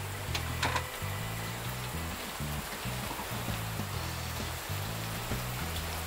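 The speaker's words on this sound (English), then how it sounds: "So yeah, we're just waiting for this rain to clear." Steady rain falls during a storm around a shipping container house, a continuous wash of hiss with a low rumbling hum underneath and no talking.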